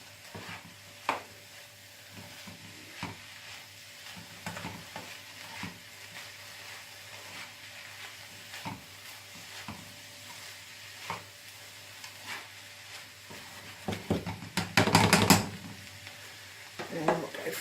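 A Bolognese-style sauce is stirred in a pan: a low simmer runs under scattered utensil scrapes and taps, and a brief burst of rattling clatter comes near the end. Faint background speech can be heard.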